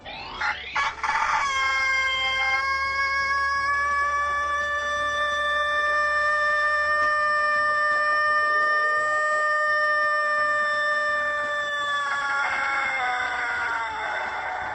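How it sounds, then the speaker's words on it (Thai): A big-lunged rooster gives one very long, loud, sustained crow lasting over ten seconds, with a sharp rising start and a tapering end, heard up close with no talking. "สาบานได้ว่าไก่ตัวเมื่อกี้นี้ไม่ได้ใช้ special effect ครับ เป็นไก่ที่ปอดใหญ่มากๆฮะ"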